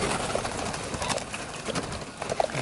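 Pigeons at a pheasant farm coo softly in short repeated calls beneath steady hissing background noise, with occasional faint rustles and no talk.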